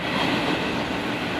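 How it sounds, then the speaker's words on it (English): A train rolling past homes beside the tracks, a steady, close, loud rumble of wheels on rail that fills the whole moment without a break. "The rumble of trains rolling down the tracks is something Bob Spacek hears many times a day"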